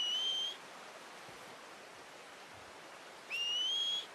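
In Red Dead Redemption 2, someone whistles to call a horse in two short, sharp, rising whistles, one at the start and one near the end, over a steady hiss of outdoor ambience.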